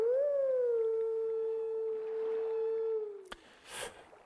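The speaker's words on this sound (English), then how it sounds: "Howl that guy like nothing else" Wolf in the video game Zelda: Twilight Princess HD howling a tune: a long, steady, clear tone that slides slightly and fades, then a sharp click and a short burst of noise.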